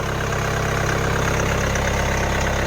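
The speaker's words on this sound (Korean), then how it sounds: "그때는 더욱더 경숙한 엔진 소리를 나타낼 것입니다." A steady, even SUV engine idle in snowy weather, warming toward 80 degrees, with a low rhythmic chug and constant hum, loud and close, with no voices.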